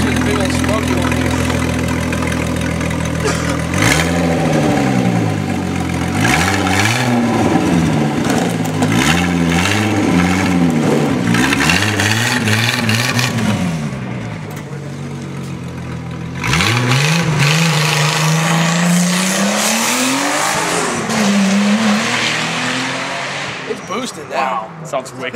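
A car engine revs hard during a smoky burnout at a car show. Loud, close revs surge and fall again and again, drop briefly to a lower rumble, then climb once more, with people talking nearby.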